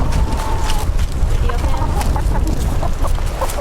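Chickens roaming freely in a garden cluck close by in short, repeated notes over a loud, rough outdoor background.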